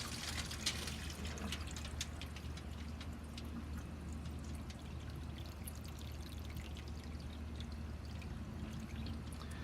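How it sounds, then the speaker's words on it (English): Water pours steadily into the water trough of a smoker grill set up to smoke a tri tip, a continuous close splashing and gurgling stream that runs unbroken with no talking. "Go ahead and fill up the water trough."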